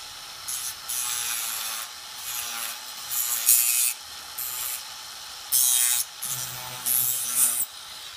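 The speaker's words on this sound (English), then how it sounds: "just using your Dremel to fix again." A Dremel rotary tool grinds scrap plastic off a Tamiya Mini 4WD VS chassis in repeated bursts of a second or so, a close, rasping whine that starts and stops with short pauses between passes.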